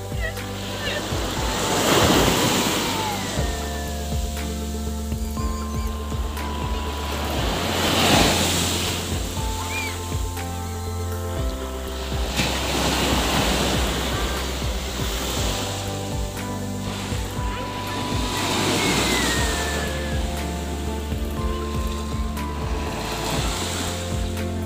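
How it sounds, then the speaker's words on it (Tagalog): Strong ocean waves surge and crash at Utapao Beach in Thailand, loud and close, rising and falling in broad swells about every six seconds with steady wind noise and faint voices underneath. "Lakas ng alon, no?"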